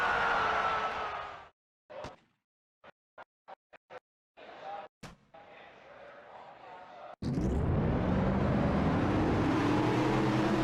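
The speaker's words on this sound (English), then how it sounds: "Cars all fired up and we're underway" NCS race cars at the Snowball Derby fire up and pull away: after scattered clicks and near-quiet, a loud, sustained engine roar bursts in and builds with rising pitch.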